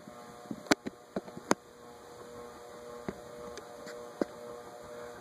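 A Moss Caribbean Breeze model 748 ceiling fan, made by GEC, running at low speed on a transformer gives a steady low electrical hum with a constant tonal drone, broken by a handful of faint clicks and taps early on.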